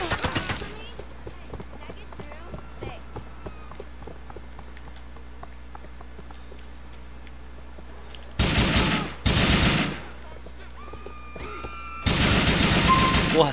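Gunfire in GTA IV multiplayer: a burst of loud shots early, then three louder sustained rapid-fire bursts later on, the middle stretch quiet apart from faint background sounds.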